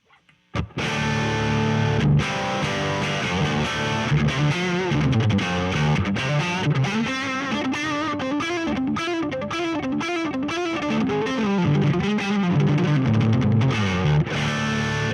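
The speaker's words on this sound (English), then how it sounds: "let's switch it over to the lead channel for some nice saturated gain" An Epiphone 1966 Century electric guitar on a lead channel plays a heavily distorted, saturated lead line, sustained notes and bends ringing out loudly with no talking.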